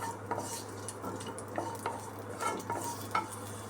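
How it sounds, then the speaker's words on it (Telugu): Cashews fry in ghee for bottle gourd halwa, a quiet sizzle broken by repeated light scrapes and clinks of a spoon stirring against the pan, with no voices. "ఫ్రై చేసుకుందామండి ఇలాగా రెండు మూడు నిమిషాలు ఫ్రై చేసుకుందాము"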